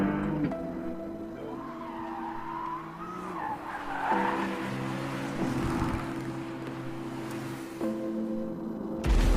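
A Ferrari sports car drives at high speed, its engine droning loudly with shifting pitch and tyres hissing on the road, a steady roar that swells and surges near the end.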